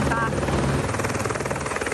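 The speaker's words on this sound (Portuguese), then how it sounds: "O helicóptero não conseguiu se aproximar." A helicopter hovering during a rescue operation at a dam collapse site gives a steady, loud rotor chop with dense throbbing pulses, while voices talk over it.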